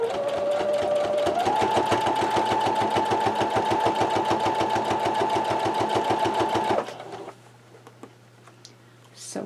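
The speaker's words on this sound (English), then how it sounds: "So I am doing a lock stitch so the stitches don't come out of my edges." A sewing machine runs steadily stitching a lock stitch along the edges of a quilt block, a fast even rhythmic whir that shifts up in pitch early on, then stops abruptly, leaving a quiet low hum.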